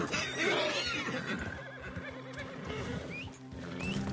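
A horse whinnies in the Red Dead Redemption 2 game world, a clear neigh rising over scattered hoof clops and low background rumble at moderate volume.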